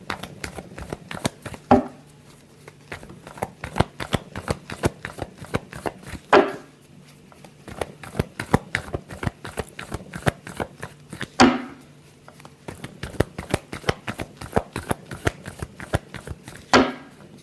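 Tarot cards are shuffled close by in a long run of quick, even riffling flicks, with a louder slap every few seconds as the deck is squared.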